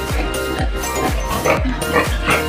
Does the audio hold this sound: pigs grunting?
yes